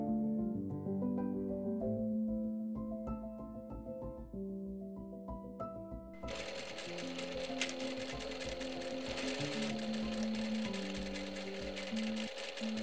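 A sewing machine stitches together the waist seam of a peplum top. Soft tonal background music plays first, then the machine starts partway through with a fast, continuous mechanical whir close by.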